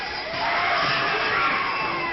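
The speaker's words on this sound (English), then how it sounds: "The screams you are hearing are the actual audience reaction to a sneak preview of Visiting Hours" A large cinema audience at a sneak preview of the 1982 horror film Visiting Hours erupts in sustained, overlapping screams and shrieks that swell and hold loud throughout.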